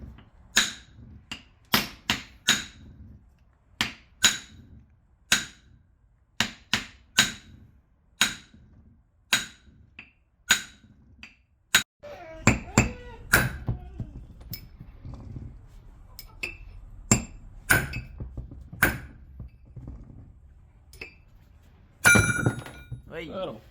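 A hammer taps the sides of a hardened steel crown wheel to knock it off a differential during an electric locker install on a 105 Series 4x4, with sharp metallic knocks in an irregular series and someone talking between strikes.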